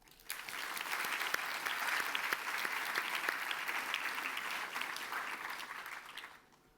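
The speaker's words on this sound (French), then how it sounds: "Je vous propose aussi de les applaudir." A seated audience applauds thesis supervisors at a doctoral graduation ceremony, dense sustained clapping from a large hall that swells quickly, holds steady for several seconds, then fades out at the end.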